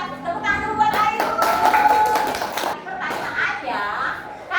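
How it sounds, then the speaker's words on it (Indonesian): A school class claps briefly for a student, a scattered round of hand claps in a classroom, mixed with children's voices and a teacher speaking over it. "Tepuk tangan dulu buat Ayu"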